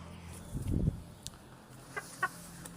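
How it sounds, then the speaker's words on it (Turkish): A single low rooster cluck sounds up close, followed by a couple of softer, higher chirps from birds nearby against a quiet, faintly humming background. "Şöyle horozumuz da girdi."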